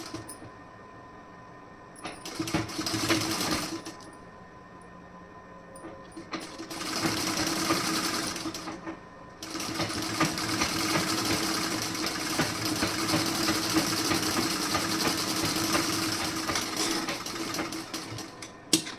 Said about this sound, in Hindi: यहाँ आप बटन पट्टी पहले रख के उसके बाद इस तरीके से स्टिचिंग करेंगे